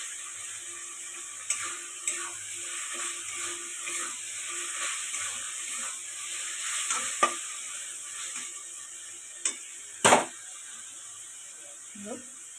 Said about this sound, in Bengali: মশলা কষানো আমার হয়ে গেছে